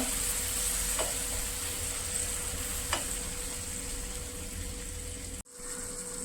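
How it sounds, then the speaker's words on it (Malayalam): Ground tomato paste for a mushroom street food gravy sizzles in a pan while it is stirred, a constant hiss with two soft knocks, then a brief drop near the end. "നന്നായി ഇളക്കി കൊടുക്കുക"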